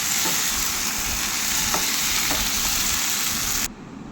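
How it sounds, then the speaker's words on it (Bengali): Fish sizzles steadily in a pan of spice masala, with a few soft scrapes as it is stirred and tossed through the paste; the dense frying hiss runs unbroken until it cuts off sharply near the end. "দিয়ে আবারও ভালো করে কষিয়ে নেব মাছগুলোর সাথে"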